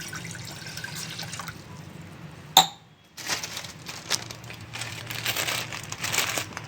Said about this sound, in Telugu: దీన్ని ఒక గిన్నెలో స్టవ్ ఆన్ చేసుకొని దాంట్లో వాటర్ పోస్తుంది.